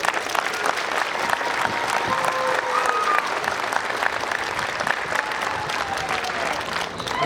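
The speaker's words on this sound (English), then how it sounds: "give yourselves a round of applause" Sustained crowd applause at a combat sports championship event, a dense, steady roar of clapping from many hands in a large room, with faint voices mixed in throughout.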